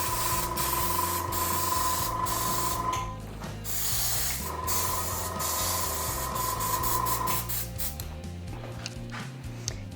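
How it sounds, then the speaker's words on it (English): An airbrush sprays black body paint onto skin in a steady close hiss. It stops briefly partway through, then resumes and fades into softer bursts. "So that's why I'm going with the airbrush."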